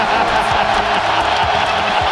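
A large audience cheers and whoops for a man drinking beer from a shoe, making a loud, continuous crowd roar for a couple of seconds.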